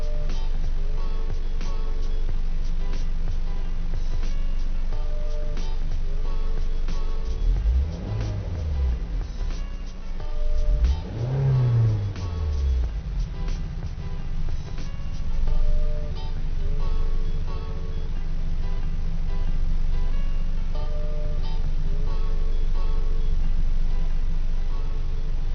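A car engine heard from inside the cabin of a vehicle fitted with floor and ceiling sound dampening hums steadily, then swells twice in rising and falling revs before settling back to a constant drone, with no voices.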